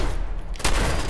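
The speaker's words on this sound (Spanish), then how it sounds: "Es difícil apuntar con la escopeta de combate" Combat shotgun gunfire in the video game Fallout 4: a sharp blast cuts through a dense, noisy background of game sound, loud and close, with a spread-out roar of shots.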